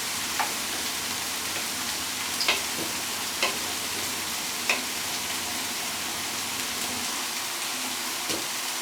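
Food frying in a pan on a home stove, a constant dense sizzle with faint scattered ticks and light scrapes as it is stirred, steady and moderately quiet throughout.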